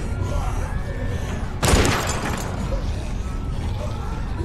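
A shotgun fired at a chain welded to the floor: one loud, sharp blast partway through, its noisy burst briefly swamping a tense, low-level background before it fades.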